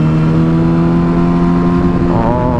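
A Yamaha R6 sport motorcycle in 6th gear at about 70 mph and roughly 6,000 RPM, its engine making a loud, steady, even drone that climbs a little in pitch toward the end.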